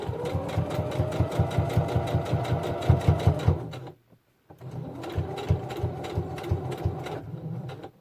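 A sewing machine stitches a seam on a V-neck set of scrubs with a fast, steady, close rhythmic chatter, pausing briefly in the middle before resuming.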